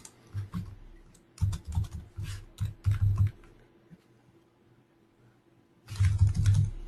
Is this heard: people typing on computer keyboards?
yes